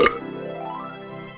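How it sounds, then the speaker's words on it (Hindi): A cartoon dragon lets out a loud, drawn-out burp that starts with a sharp burst, then settles into a low, rumbling tone lasting just over a second. "चाय खत्म होते ही ड्रैगन ने जोर से डकार ली।"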